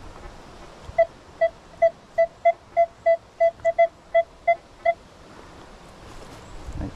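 A metal detector sounds a repeated electronic tone over a colonial-era dig site, about a dozen evenly spaced short beeps in a steady rhythm, close and clear above quiet outdoor background, with no talking.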